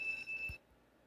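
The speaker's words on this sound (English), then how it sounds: "Do I have to stop the alarm when it goes off?" An electronic alarm rings in the Stickman Survival video game, a steady high-pitched tone with a brief low thump near the middle, cutting off abruptly about halfway through and leaving quiet room tone.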